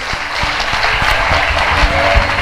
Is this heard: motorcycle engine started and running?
no